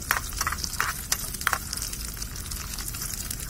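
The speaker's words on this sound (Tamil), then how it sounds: "ஆனியன் நல்லா வதக்கிக்கலாம்." Onion sizzles and crackles in a tiny miniature cooking pan while being sautéed, a soft steady frying hiss with a few sharp stirring clicks near the start.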